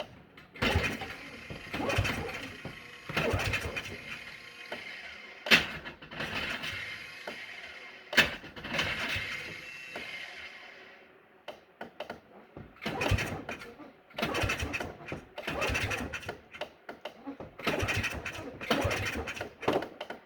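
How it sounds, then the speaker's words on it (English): Polaris ATV starter motor failing to engage as the starter button is held and the pull start is tried, close rattling, whirring and clunking bursts that come and go irregularly, with brief gaps between attempts. "So the starter doesn't sound happy at all. So it doesn't sound like it's engaging."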